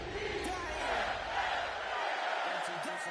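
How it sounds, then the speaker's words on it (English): A dense, roaring video game stadium crowd at Highmark Stadium in Madden fills the space with a steady wash of cheering and chatter, loud and continuous throughout. "this crowd is loud and this crowd is ready for a ball game"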